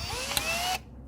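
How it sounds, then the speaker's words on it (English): A drill fitted with a 3.2mm high-speed steel bit runs on low speed, drilling out a pop rivet on an MG convertible hood frame. It gives a short close whine with a rising pitch, then cuts off abruptly. "grab a drill, and we'll drill out these rivets here first"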